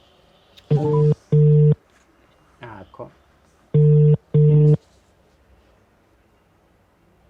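A telephone call placed in a Zulu drama scene: two pairs of loud ringback tone bursts with a short burst of keypad beeps between them, and a voice heard briefly.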